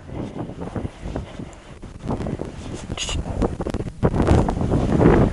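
Strong wind buffets the microphone in rough, uneven gusts, growing louder toward the end.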